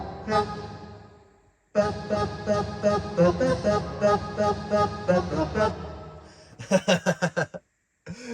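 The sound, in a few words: Yamaha PSR-740 keyboard orchestra hit voice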